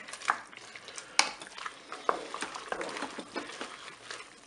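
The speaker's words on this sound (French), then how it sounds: "je vais mélanger. Je mélange." Spaghetti with carrots and chicken gets stirred in a Cookeo pot, making soft close scrapes and light clinks with a faint wet sizzle underneath and uneven strokes throughout.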